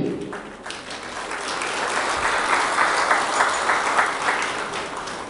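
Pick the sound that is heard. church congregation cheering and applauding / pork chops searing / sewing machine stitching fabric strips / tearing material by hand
church congregation cheering and applauding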